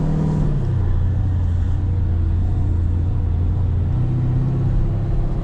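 A twin-turbo Dodge Charger 5.7 engine revs, a loud, deep rumbling roar whose pitch shifts briefly near the start and then holds steady and sustained throughout.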